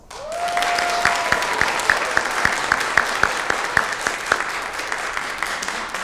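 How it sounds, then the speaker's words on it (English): Audience applause for speech contest finalists, a crowd clapping steadily with distinct rhythmic claps standing out near the front, following a short whistle-like tone at the start. "as you're still clapping, let's continue that on for our finalists"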